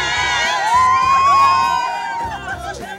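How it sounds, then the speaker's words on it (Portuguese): A large crowd shouts and cheers at a store chain's year-end party, loud overlapping voices and whoops with rising calls, close and dense throughout. "Olha o tumulto aqui"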